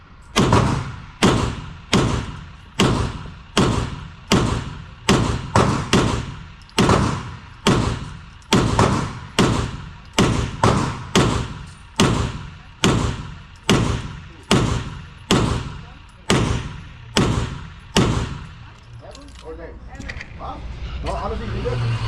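A Beretta 92XI Squalo pistol fired slowly at a range, about twenty loud sharp shots at a steady pace of roughly one per second, each ringing briefly, followed by a few seconds of muffled rumble after the last shot.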